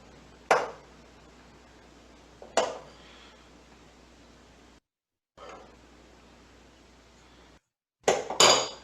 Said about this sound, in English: You're going to want to take your mixture here and we just spoon it on top.